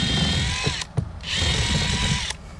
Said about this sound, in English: Again, this is plastic. It's not that hard to drill.